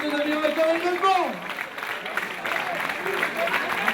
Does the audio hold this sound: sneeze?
no